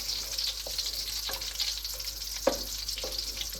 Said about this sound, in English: We're gonna fry it for a couple of minutes on medium flame